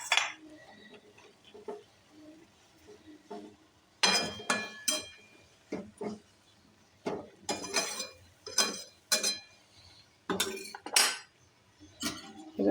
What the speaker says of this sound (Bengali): পনির দিয়ে দিয়েছি, এটা কষা হচ্ছে